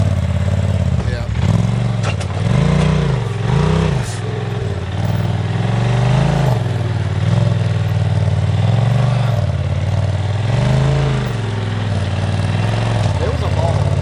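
An off-road vehicle drives over rocks, its engine loud and close, rising and falling as the throttle surges, with people talking over it.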